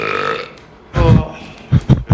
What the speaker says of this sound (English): Bro, he just keeps burping.